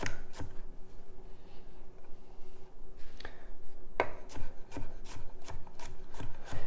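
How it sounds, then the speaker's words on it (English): A knife rough-chops garlic cloves on a cutting board, with irregular sharp taps and scraping rubs close by, coming in quicker bursts toward the end. "And go ahead and just do a rough chop"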